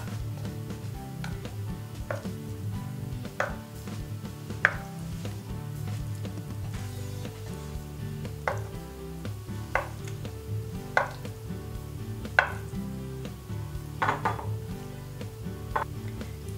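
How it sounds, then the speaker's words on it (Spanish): A knife chops tofu into small cubes on a board, making a series of sharp, moderately loud taps at an irregular pace over a low kitchen background hum. "Empezaremos troceando el tofu."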